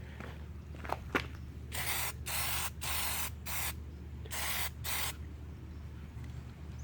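Plastidip rubber coating sprayed from an aerosol can onto a car grille, in five or six close hissing bursts of about half a second each, separated by short pauses.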